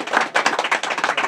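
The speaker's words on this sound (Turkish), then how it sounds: "Lütfen Abdurrahman Tarikçi'yle alkışlayalım." An outdoor audience at a grape harvest festival in Karanlıkdere, Yozgat, claps together in quick dense rhythm, loud and close, with no voices over it.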